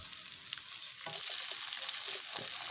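Cut medium-sized potatoes go into a hot pan with onions, a steady, fairly quiet sizzle with a few soft scraping stirs and light knocks over a short stretch, with no speech.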